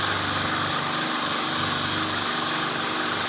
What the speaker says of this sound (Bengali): দেখেন কিভাবে মেশিন মারতেছে